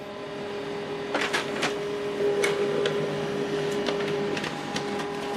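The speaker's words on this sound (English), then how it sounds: "this is the document we printed out from the phone" HP LaserJet MFP M140WE printer printing a document: a continuous mechanical whir with a steady tone and intermittent clicks and clunks, close and moderately loud, with no talk.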